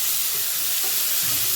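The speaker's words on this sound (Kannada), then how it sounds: "ಉಳ್ಳಾಗಡ್ಡಿ ಫ್ರೈ ಆಗಬೇಕು, ಸ್ವಲ್ಪ ಟೈಮ್ ಹಿಡಿಸುತ್ತೆ." Sliced onion and a little carrot fry in a pan, giving a steady, even sizzling hiss across the whole short moment with no voices.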